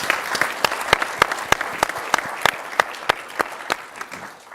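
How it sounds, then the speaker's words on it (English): A small crowd claps steadily, sharp individual claps clearly audible and fairly loud, sustained for several seconds with no talking. "Let's give them a round of applause."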